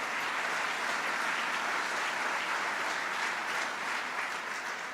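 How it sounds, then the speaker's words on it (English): An audience at a Buffalo State of the City address applauds steadily, dense clapping holding at an even level for several seconds with no speech over it. "Let's give them a round of applause."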